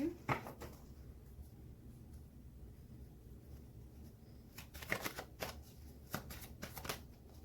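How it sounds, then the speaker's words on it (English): A deck of tarot cards being shuffled in repeated riffling bursts, close and clear, with quieter handling between bursts and no talking. "Okay, we're going to do another shuffle."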